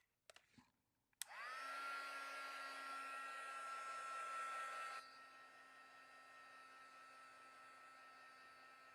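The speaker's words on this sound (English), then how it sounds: "I'm going to use my heat tool." A heat tool blowing hot air over an art journal page gives a steady, close whirring blow with a constant whine, switching on after a few faint knocks and dropping to a quieter hum partway through.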